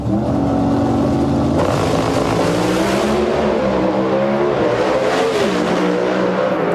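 Pro Stock drag race cars roar down the strip at the 2003 NHRA K&N Filters Super Nationals eliminations, with some wheel spin. The loud, dense engine howl runs continuously throughout, and its pitch climbs and shifts as the cars accelerate.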